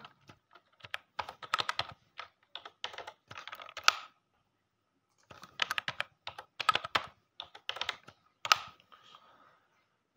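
Bursts of rapid key clicks on a computer keyboard as a password is entered, with a pause in the middle, close and fairly quiet.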